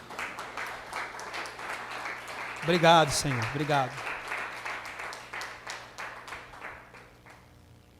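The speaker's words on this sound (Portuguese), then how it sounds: "Vamos dar uma salva de palmas para o Senhor Jesus." A church congregation applauds steadily throughout, with a voice speaking briefly over the clapping in the middle.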